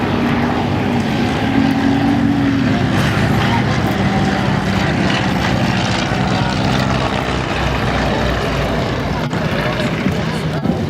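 Nieuport WWI biplane flying at the Duxford Flying Legends airshow, its rotary engine and propeller droning steadily and loudly for the whole stretch, with a broad continuous roar and faint voices mixed in underneath.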